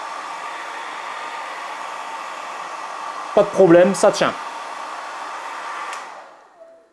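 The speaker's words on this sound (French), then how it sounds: "j'ai coupé le sèche-cheveux" A hair dryer on heat setting 1 and fan setting 1 blows with a steady whooshing hiss, briefly interrupted by a short spoken phrase, then winds down and fades to silence as it is switched off.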